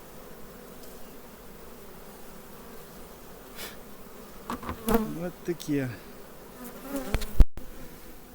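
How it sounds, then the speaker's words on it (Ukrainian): Close buzzing of honey bees in a hive filling with goldenrod nectar, rising and falling with a few louder passes near the end, and a brief spoken remark in Ukrainian. "Так, бджола."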